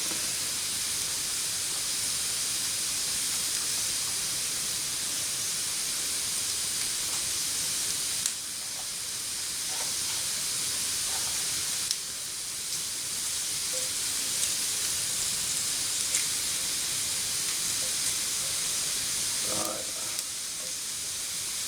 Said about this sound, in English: Starting to sizzle away.